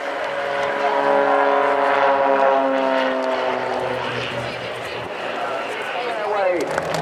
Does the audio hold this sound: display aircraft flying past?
yes